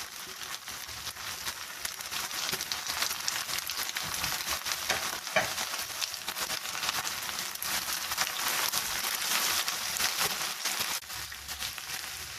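Capsicum, onion and cabbage frying together in a pan for a Chinese-style chicken dish: a steady, dense sizzle and crackle that runs unbroken throughout, with no voices.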